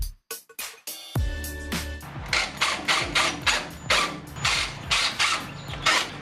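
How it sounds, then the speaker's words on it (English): Small screws driven into a Jeep Wrangler JK fender flare bracket from underneath during an EAG stubby fender flare install: a run of quick, rhythmic ratcheting mechanical bursts, close and fairly loud, with no talk. "we'll take these smaller included screws and secure the bracket from underneath"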